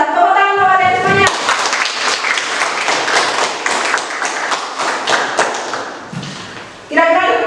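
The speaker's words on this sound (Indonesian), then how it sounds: "Tepuk tangan kepada kalian semuanya" Classroom applause for students after their presentations, a dense burst of many hands clapping for about six seconds, with brief speech before and after.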